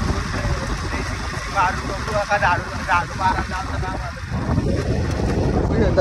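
Motorbike running flat out on the road, a steady engine drone buried under heavy wind buffeting on the microphone, with a voice talking over it.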